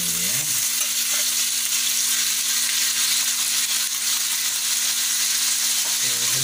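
A pork chop pan-frying with garlic and onion, a loud, even, continuous sizzle close by that holds steady throughout, with a soft clunk of stirring near the start and end.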